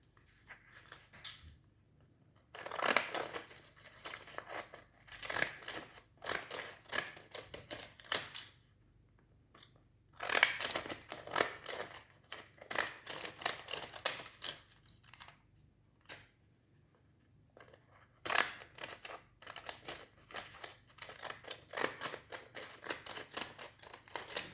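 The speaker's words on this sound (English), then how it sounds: "So you have to cut something like this way, pointy ones." Scissors snip paper into pointed V shapes for a mixed-media paper swan craft, heard as short bursts of close crisp cutting separated by quiet pauses, with no talking.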